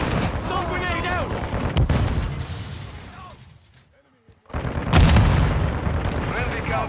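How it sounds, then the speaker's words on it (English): Gunfire and bursts in a military shooter video game, with a stun grenade thrown mid-fight; heavy continuous shots and booms over radio chatter and players talking, a short quiet gap, then a loud blast and renewed firing. "Stun grenade out!"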